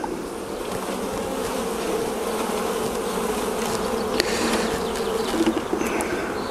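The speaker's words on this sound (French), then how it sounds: "maintenant je vais reprendre le reste des abeilles" Honeybees buzz in a dense, steady swarm as the rest of the colony is shaken from a small nucleus hive into a clean new hive, the drone close and continuous throughout with no talking.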